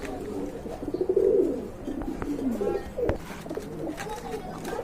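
Pigeons cooing nearby in soft, throaty rolls, several calls spread across the clip with faint background noise.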